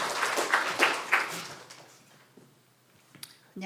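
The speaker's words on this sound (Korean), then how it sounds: "우리 박수 한번 해주십시오." A church congregation applauds during a Sunday service, with a brief burst of scattered clapping that quickly fades to quiet, followed by a few faint thumps.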